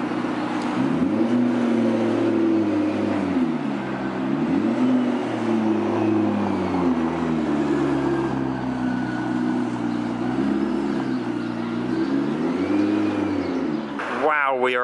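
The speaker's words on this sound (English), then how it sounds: "Full carbon red P1 on the roads here in Geneva." Full carbon red McLaren P1 driving on the road in Geneva, its engine revving up and down in repeated loud swells through gear changes, close by, with a person talking over it.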